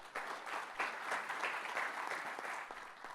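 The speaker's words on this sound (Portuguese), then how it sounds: "Uma salva de palmas para o ministro Roberto Rodrigues." Sustained applause from a congress audience welcoming a minister to speak at an international insurance congress, steady dense clapping filling the room without pause.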